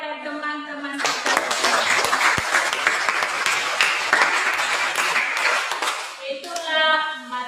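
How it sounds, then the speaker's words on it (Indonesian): Classroom applause for classmates, a burst of many hands clapping that runs for about five seconds between a teacher's spoken words before and after. "Berikan aplaus kepada teman-teman kita."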